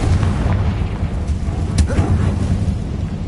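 A Confringo spell explodes in the Hogwarts Legacy video game, a deep rumbling boom that rolls steadily for a few seconds with a sharper burst near the middle, loud and close.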